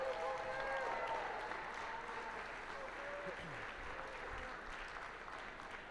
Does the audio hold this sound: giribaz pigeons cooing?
no